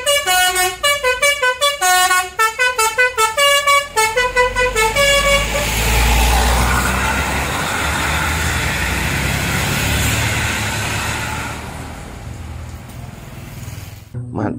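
Rhythmic, melodic musical horn (basuri) of a Mahindra bus honking in a repeated pattern, loud and close, then giving way to the roar of the passing bus engine fading off.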